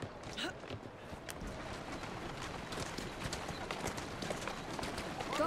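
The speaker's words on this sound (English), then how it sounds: "I should just take a horse." Steady clip-clopping of horse hooves at a brisk pace in the video game Assassin's Creed Syndicate, continuous throughout over a background of ambient noise.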